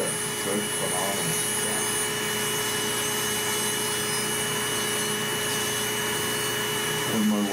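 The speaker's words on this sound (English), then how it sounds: "This has a vacuum in the handpiece, though." A nail drill handpiece with a built-in vacuum runs steadily at a constant high whine with a soft suction hiss, held at moderate level for the whole stretch, with brief faint voices near the start and end.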